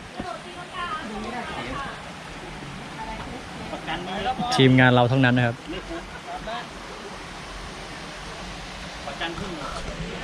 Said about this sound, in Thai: นี่นะครับ น้ำตกผาโศก